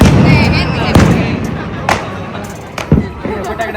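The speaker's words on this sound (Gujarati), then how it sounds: "यहाँ पे पटाखे फूटना भी शुरू हो गए हैं" Firecrackers bursting outdoors during an evening Uttarayan celebration, a series of sharp cracks and booming thuds at irregular intervals, some near and loud, over a noisy background with talk in it.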